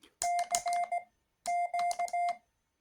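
Two clean bursts of Morse code beeps spelling CQ from a small speaker, a steady single-pitch tone keyed in dashes and dots with a pause between groups.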